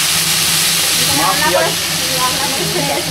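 Ginger juice hits hot oil already seasoned with cardamom, cloves and cinnamon for a home-style biryani, and the pan gives a loud, continuous sizzle and hiss with stirring scrapes mixed in.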